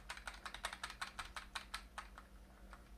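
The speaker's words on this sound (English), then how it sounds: "And I'm going to spam click F2." A computer keyboard's F2 key tapped rapidly and repeatedly at boot, a quick run of about a dozen sharp plastic clicks close by over a faint steady hum.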